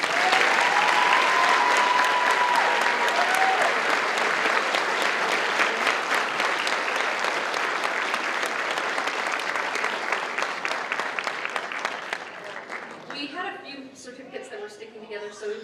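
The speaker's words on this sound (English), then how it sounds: "And one more hand of applause for our class." Sustained audience applause for a graduating class at a 2021 promotion ceremony, loud and steady for about twelve seconds before thinning out into scattered claps and quiet chatter.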